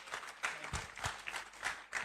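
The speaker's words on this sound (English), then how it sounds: "Please keep clapping until she sits down" A seated audience claps after a speech at a health event, a faint, brief patter of hands sounding from a distance.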